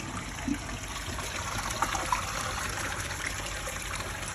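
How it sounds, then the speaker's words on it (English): Water flowing into a rebuilt garden pond as it fills, a steady trickling, gushing flow heard close and continuous, with a few faint clicks. "water's coming in fine."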